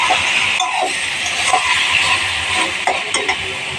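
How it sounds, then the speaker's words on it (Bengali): Meat frying in a covered pan gives a loud, continuous close sizzle, broken by scraping stirs and occasional light metallic clinks of utensil against pan. "মাংসটাকে একটু ঢাকা দিয়ে আমি কষিয়ে নিচ্ছি"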